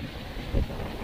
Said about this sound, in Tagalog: Malakas guys ang hangin.